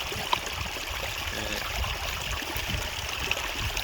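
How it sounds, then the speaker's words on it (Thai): Water streams out of a drainage pipe into a large canal beside a road, a steady close-up rushing and trickling flow with low turbulent gurgles, continuous throughout with no talking. "เป็นท่อน้ำไหลครับมันเป็นน้ำไหลมาแต่ให้หน้า"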